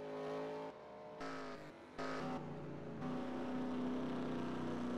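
Race cars in a stock car racing video game at Nashville drone past the start-finish line, their engines layering into a steady, moderately loud whine that shifts pitch as gears change, with no voices.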